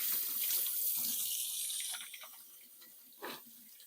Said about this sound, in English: Let me just rinse my hands because now I have all the little particles on me.